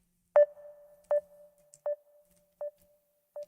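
A call-ended tone from a phone after the other caller's handset died: five short, evenly spaced beeps with a steady hum between them, fairly clear with no talk.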